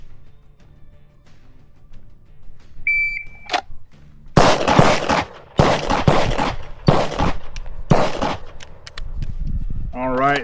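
Gunshots from a shooting box drill on a range: a timer beep, then a rapid string of loud, close sharp reports in quick pairs separated by brief pauses, with a short tone at the end.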